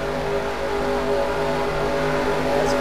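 A field of race trucks accelerates together on a restart at the Lucas Oil 150, a dense continuous engine roar with layered droning tones, steady and fairly loud throughout.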